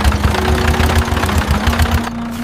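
A cartoon tractor's engine runs at a steady idle, loud and close, with a chugging low rumble and a faint whining hum that eases off near the end.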